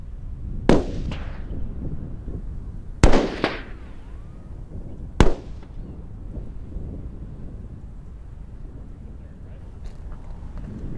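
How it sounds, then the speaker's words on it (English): Three sharp rifle shots crack out at intervals of about two seconds, each with a brief echoing tail, fired while confirming a scope's zero before an ibex hunt in Mongolia, with steady wind rumble between them. "That first shot was about a half inch low"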